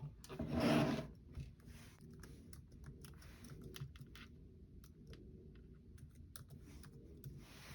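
Computer keyboard typing, a quick uneven patter of light key clicks at close range, starting after a brief rustling burst and going on quietly with no talk.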